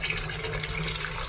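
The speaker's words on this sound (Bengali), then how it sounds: "টিফিনগুলো ধুয়ে নিই আগে" Tiffin boxes are rinsed under running tap water, a close, continuous rushing splash with no pauses.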